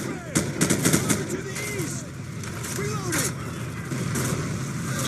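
Gunfire from an enemy positioned above in Call of Duty 4, bursts of shots crackling through the first second and recurring later over a steady game din, with someone talking throughout.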